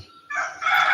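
In the early morning a rooster lets out a short, loud crow nearby, the call rising abruptly after a brief quiet moment and holding strong to the end.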